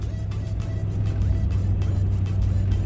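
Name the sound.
Mercury Marquis car driving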